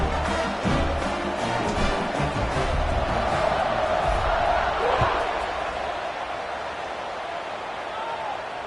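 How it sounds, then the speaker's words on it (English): Continuous crowd roar fills a football stadium during a tournament game after a score, a dense steady buzz of many voices with a brief swell midway, while speech runs over it. "this crowd is buzzing after that last score"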